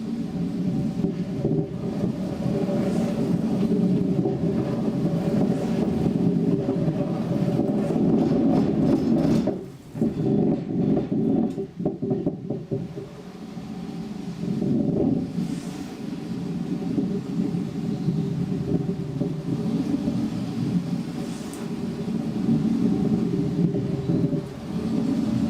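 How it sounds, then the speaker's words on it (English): Water mill stones at Stainsby Mill crush grain with a steady, heavy low rumble and grinding judder. The sound runs continuously, with a brief dip and a few rougher surges, and no voices. "the stone suddenly drops, causing a juddering sound and stalling the stone"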